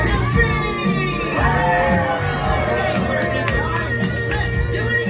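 Crowd of children screaming and cheering loudly together at a Chuck E. Cheese first-birthday party, a sustained close burst of high shrieks and whoops amid general hubbub.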